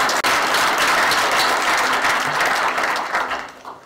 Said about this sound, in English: So let's give him a round of applause to make him feel excellent.